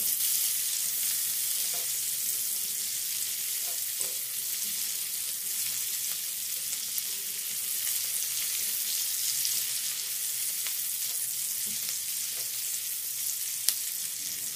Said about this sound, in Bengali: এবার পেঁয়াজকেও মিনিট খানেক একটু নেড়েচেড়ে নিতে হবে।